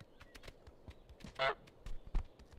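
Cartoonish goose honk from Untitled Goose Game, one loud nasal honk standing out briefly amid light game sounds and clicks.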